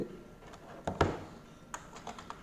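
Typing on a computer keyboard produces a few scattered key taps, quiet and close, with two sharper clicks near the start and softer, lighter taps after.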